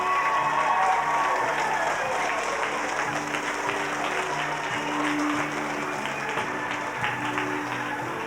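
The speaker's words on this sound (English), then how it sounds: "How about a big hand for the 4th and 5th grade choir?" Audience at an elementary school holiday show applauding the 4th and 5th grade choir, with sustained dense clapping from a large crowd in a hall that slowly tapers off.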